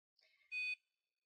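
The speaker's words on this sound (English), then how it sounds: "You hear that beep" A single short electronic beep from a glucometer as a test strip is inserted, clear and close, preceded by a faint chirp, then silence.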